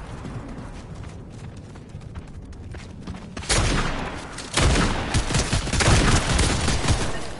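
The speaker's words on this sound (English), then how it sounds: "Whoa, we're getting shot at." Bursts of gunfire erupt in a battle royale video game on PS5, a steady rattle of rapid shots that grows louder and denser midway and keeps pounding to the end, close and continuous.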